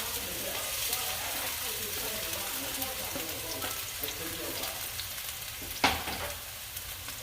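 Onion sautéing in a pan for a spicy ramen soup gives a steady, close sizzle and frying hiss throughout, with a brief louder clatter near the end.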